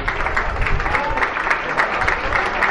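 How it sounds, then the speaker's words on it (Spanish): Football fans at a U.D. San Pedro match give a standing ovation for player Romero, a sustained clapping crowd with occasional low thumps, broad and fairly loud in an open stadium. "Y ahí está la ovación de los aficionados al jugador Romero."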